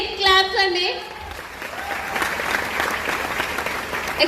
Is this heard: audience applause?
yes